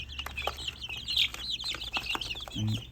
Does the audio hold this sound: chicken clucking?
yes